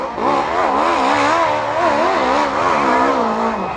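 A hill climb vehicle on full throttle, loud and close, its engine droning in a wavering, revving tone that rises and dips continuously without letup, no talk.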